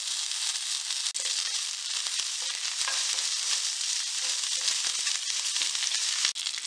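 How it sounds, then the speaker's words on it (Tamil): Asafoetida, two dried red chillies and curry leaves crackle in hot oil with urad dal and mustard seeds for a kozhukattai tempering, a steady close hiss with a few sharp pops and no voices. "இப்போ கொஞ்சம் காயப்பொடி போட்டுக்கலாம். 2 வரமிளகாய், கொஞ்சம் கருவேப்பிலை."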